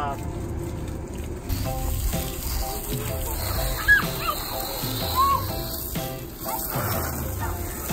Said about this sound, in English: can you spray the wheels?